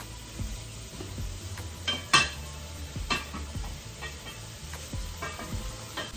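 Cabbage cooking in a pot on the stove, with a soft sizzle beneath a few sharp clinks and scrapes of stirring spread through the stretch, close and fairly quiet.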